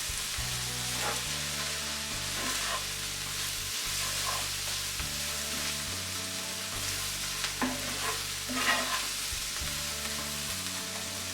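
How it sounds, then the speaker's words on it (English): Chickpea chana masala base sautéing in a pan, a steady broadband sizzle with occasional spoon scrapes and stirring clatter running throughout, alongside a low sustained background hum. "Just saute this for at least 2 minutes."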